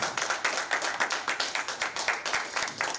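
A crowd greets a guest at an Urdu poetry album launch with steady, rhythmic clapping. The broadband claps fall in a fairly even pulse and hold at a constant level throughout, with no voices over them.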